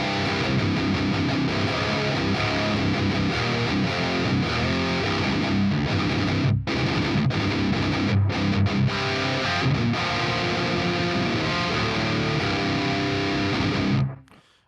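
A PRS S2 electric guitar played through an amp simulator with its cabinet on and no drive gives dense, full strummed chords that sustain steadily throughout, with a couple of brief breaks, before cutting off at the end.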